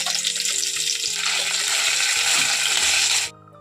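Cardamom, cloves, cinnamon, ginger and cumin frying in a pan, a loud dense sizzle with light stirring that cuts off abruptly near the end.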